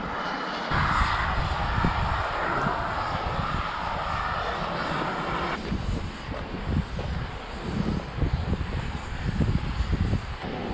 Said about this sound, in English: You can hear this really loud vent or geyser going off behind me